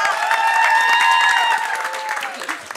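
Audience applause at a Moldovan roast battle comedy show, dense steady clapping with crowd noise and a held tonal note over it, tapering off slightly near the end.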